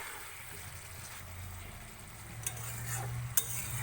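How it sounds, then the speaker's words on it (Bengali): Spiced masala for duck egg curry being stirred in a hot pan, with a soft continuous sizzle and a few scraping clicks of the spoon against the metal, faint and close. "তো আমি এটা একটু নেড়ে নিচ্ছি।"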